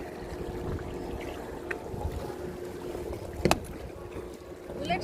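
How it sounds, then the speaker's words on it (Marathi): Soft water gurgling and lapping beneath a fishing boat out on the open sea, a steady low burble with faint splashes and one brief sharper knock partway through. "फक्त थोडा पाण्याची खळखळ आहे"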